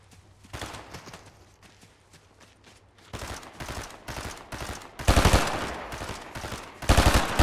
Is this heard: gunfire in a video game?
yes